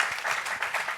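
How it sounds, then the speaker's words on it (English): An audience at a book launch applauds for Sheikh Hassan, dense steady clapping from many hands filling the whole moment. "So a round of applause for Sheikh Hassan."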